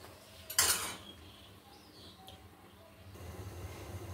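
A metal lid drops onto a cooking pot with a brief bright clatter, followed by quiet kitchen ambience and low background noise.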